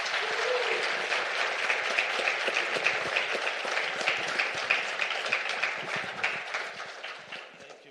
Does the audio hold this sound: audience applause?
yes